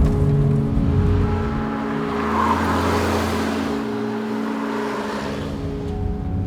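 A Porsche 911 Turbo S accelerates hard down a straight, heard from the cabin as a loud, steady engine roar with swelling and easing tones, with no voices.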